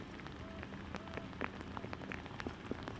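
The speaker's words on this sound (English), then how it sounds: "So it's kind of a warm rain." Warm rain falls steadily at an evening high school baseball game, a continuous patter of drops tapping nearby surfaces with scattered louder splats.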